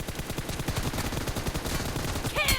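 Rapid automatic gunfire from a PUBG Mobile team deathmatch, dense repeated shots filling the whole stretch, loud and close, with a sharper burst near the end.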